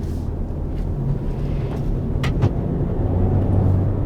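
A Hyundai Veloster N with an 8-speed dual-clutch gearbox drives on a race track, its engine a steady loud low drone heard from inside the car, with a couple of brief higher whooshes partway through.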